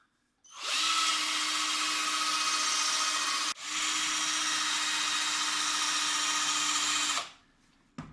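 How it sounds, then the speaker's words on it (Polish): A cordless drill fitted with a terry cloth pad buffs waxed wood, giving a loud, steady whine close by. It runs for about three seconds, dips briefly, then runs on for several more seconds before stopping. "Teraz wezmę to, wypoleruję. Kupiłem taką frotkę na wkrętarkę i do dzieła."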